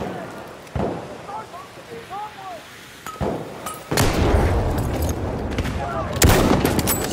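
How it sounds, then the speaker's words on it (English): Bursts of machine gun fire in a video game, loud and dense in the second half, with short isolated bangs earlier amid chirpy game noises and shouting voices. "Machine gun! Watch it,"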